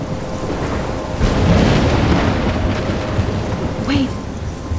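A storm rages in the Life Is Strange video game, with loud continuous wind, rain and crashing waves forming a dense roar that swells in the middle, plus a brief tonal cry near the end.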